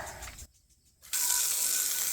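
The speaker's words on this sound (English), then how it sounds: "then I am going to spray it with some Tilex to kill that algae that's in there" A spray bottle of Tilex cleaner hisses into a birdbath to kill algae, a short spray, a brief pause, then a longer continuous hissing spray, close and clear with no talking.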